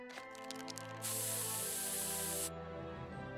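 Pepper spray fires in the South Park: The Stick of Truth video game: a single loud hissing burst about a second and a half long, set against soft sustained background music tones.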